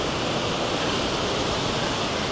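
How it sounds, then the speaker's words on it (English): Ocean waves roll in at Destin Beach, Florida, a steady, loud broadband wash of surf with no breaks or voices over the short stretch. "So we're just going to stop here and look at the water to see the waves coming in."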